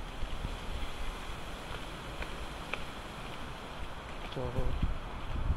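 Wind buffeting a microphone on a boat trip along the Zambales coast, a continuous rough rumble with water noise beneath and a brief voice near the end.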